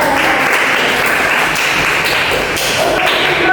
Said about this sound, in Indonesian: Kita beri tepuk tangan kembali untuk tim kontra yang sudah memenangkan debat.